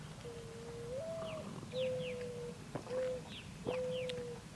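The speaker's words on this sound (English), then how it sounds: "That's a dove sound." Outdoors, a dove gives soft, low, drawn-out coos in a few repeated phrases with faint higher chirps around them. It sits at moderate distance over quiet ambient noise.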